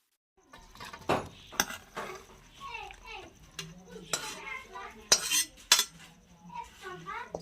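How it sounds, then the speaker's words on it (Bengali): Cooked Bengali shukto is poured out of a metal cooking pot, with clinks and scrapes of a utensil against the pot between soft sloshing, close by, while someone talks over it. "তো দেখুন এবার আমি ঢেলে নিচ্ছি।"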